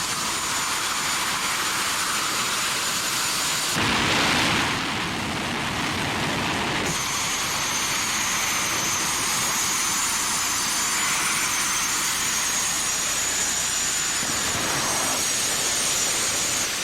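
Two jet dragsters at the Raceway Park starting line for the Pro Jet Spring Car Championships roar steadily and loudly, with a brief louder surge early on and a sustained turbine whine throughout.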